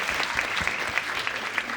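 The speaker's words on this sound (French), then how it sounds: "on applaudit si vous voulez." A short burst of crowd applause from a studio audience, dense clapping at steady loudness with a few sharper hand claps standing out for under two seconds.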